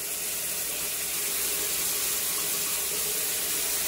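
Two shower heads run at full flow into a freshly unclogged shower drain, giving a steady, even hiss of falling and draining water that continues unbroken without voices.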